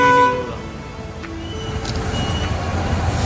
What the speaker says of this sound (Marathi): गाडी पण येता आता, ट्रेन